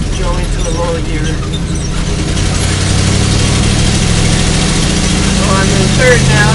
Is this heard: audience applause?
no